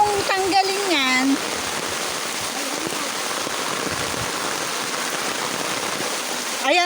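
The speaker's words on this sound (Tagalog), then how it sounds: "Ayun, lakas ng ulan." Heavy rain pouring down in the provinces, a dense, even roar of water falling steadily throughout, with brief voices at the very start and end.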